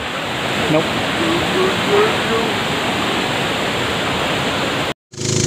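Steady broadband roar of Pinipisakan Falls, a waterfall, loud and continuous with no pauses, cut briefly by a short dropout near the end.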